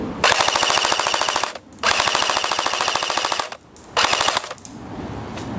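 Cybergun FA-MAS bullpup airsoft rifle firing full auto outdoors: three rapid mechanical bursts of buzzing rattle, the first two long and the last shorter, close and loud, with a softer trailing bit at the end.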